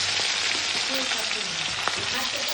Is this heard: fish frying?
yes